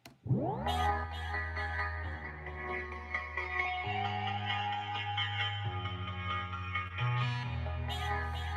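A sped-up synth and vocal sample made in a Logic Pro session plays as a dense, pitched electronic loop with shifting bass notes and a bright, warbling upper voice, steady and fairly quiet, with no talking.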